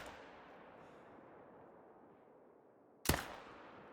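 A single sharp rifle shot in the hunting game theHunter: Call of the Wild cracks out near the end after a quiet stretch of faint ambient hiss, loud and abrupt with a brief decaying tail.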